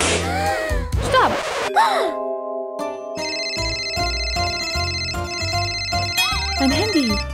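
A mobile phone ringtone plays as a repeating electronic melody of bright steady tones, mixed with vocal exclamations and sighs in a children's story.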